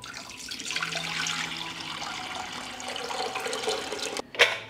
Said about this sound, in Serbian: U lonac ću sipati litar tople vode.